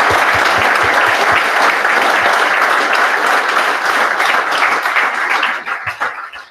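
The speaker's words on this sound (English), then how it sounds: "Let's have a round of applause." A loud, full round of applause from a crowd at a hackathon prize ceremony, sustained for several seconds before thinning out toward the end.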